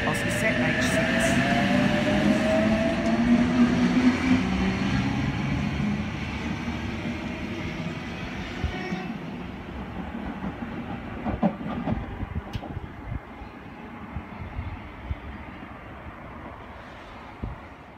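A passenger train rumbles and rolls out of a station platform at Wyee, New South Wales, with clattering wheels, gradually fading as it moves away, with wind buffeting the microphone.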